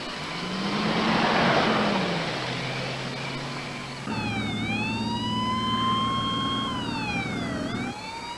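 A loud wailing ambulance siren sweeps up and down continuously, joined partway through by a second siren tone over rumbling traffic noise.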